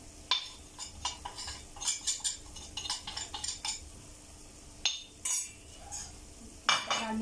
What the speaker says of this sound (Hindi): इसके साथ ही मैंने ये 3 चम्मच मैदा लिया है और ये मैं इसमें डाल दूँगी